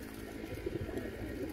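Iranian breed pigeons coo at close range, a soft low rumbling murmur that carries on steadily through the whole moment with no voices present.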